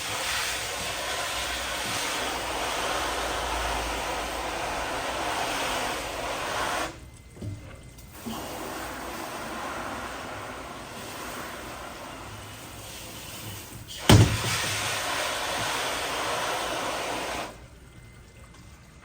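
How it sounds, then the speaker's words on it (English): A water hose gives a steady, loud hissing flood rinse over a screen printing dip tank, running continuously with two brief pauses and a sharp knock partway through before it cuts off. "Grab your hose, do a nice flood rinse"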